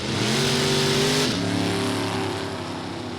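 A 1963 Corvette drag racing at Norwalk, its loud V8 engine revving up through rising pitch then dropping at a gear shift and pulling hard again, close and alone without talk.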